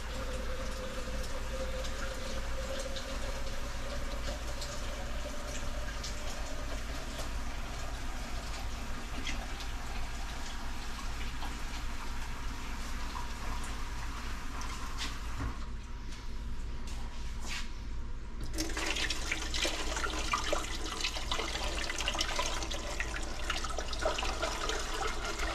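Water pouring steadily into a large pot set up for canning jars in a home kitchen, a continuous close rushing fill that brightens and grows louder near the end, with no talking.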